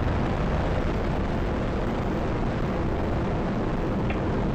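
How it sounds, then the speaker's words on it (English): A deep, continuous rocket roar from a space shuttle launch, loud and steady throughout, with no voices. "That was the sound of a space shuttle."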